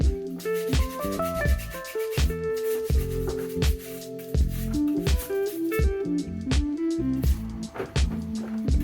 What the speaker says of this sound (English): So let me give it a good scrub